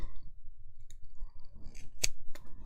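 Scissors cut plastic oval shapes in half, with a few soft close snips and clicks, one sharper snap near the end, in a quiet craft setting.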